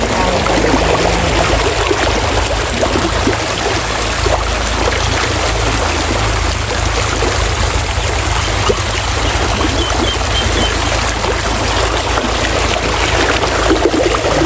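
A village tube well gushes water in a strong, loud, unbroken rush close by, steady from start to finish.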